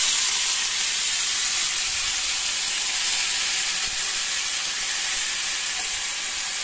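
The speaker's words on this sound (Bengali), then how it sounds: "তো তেলটা গরম হয়ে গেছে, দেখছি ধোয়া উঠছে। আমি এখানে মাশরুমগুলো দিয়ে দেবো" Mushrooms sizzle in hot, smoking mustard oil in a pan, giving a steady, even hiss of frying that holds at a constant level throughout with no talking.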